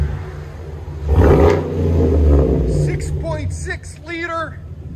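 Gas 6.6L V8 in a Chevy Silverado 2500HD with dual Black Widow Race Venom exhaust, rumbling loudly and swelling under a rev, then settling to a low idle as someone talks over it.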